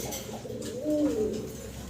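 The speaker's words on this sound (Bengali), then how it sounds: "দেখেন চমৎকার লটন কবুতর দেখতেছেন আপনারা" A Lotan fancy pigeon at a pigeon sale gives a single soft, close, throaty coo, rising and falling over half a second against quiet background noise.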